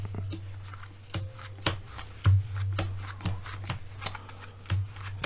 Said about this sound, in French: vous allez distribuer à nouveau 4 cartes comme ça, devant le spectateur, alignées